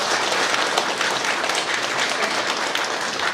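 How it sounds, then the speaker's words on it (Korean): A crowd at a civic gathering applauds the mayor of Naju, steady dense clapping throughout at moderate volume, with no talk over it. "앞장서서 가장 고생해 주신 우리 시장님께 격려의 박수 부탁드립니다"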